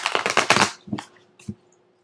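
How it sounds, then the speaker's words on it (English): A deck of tarot cards is riffled and shuffled, a quick burst of papery flutters followed by two softer taps as the cards settle, close and clear with no talk. "Let me shuffle this one."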